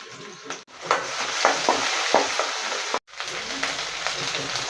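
Mustard seeds, curry leaves, shallots and ginger-garlic frying in a little oil, a steady close sizzle with small crackles and spoon stirring scrapes, broken by two brief pauses.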